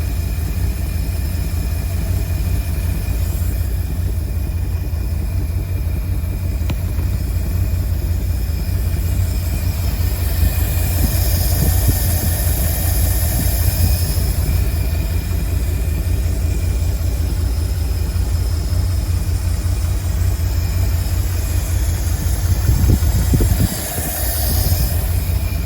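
A 1952 Cadillac Series 62 engine idles steadily after a carburetor rebuild, a loud, close, continuous low rumble that holds evenly throughout with no speech.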